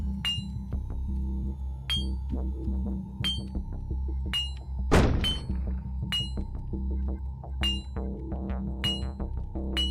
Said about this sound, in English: Okay, that's what the explosions are. The robots are literally just chaos machines.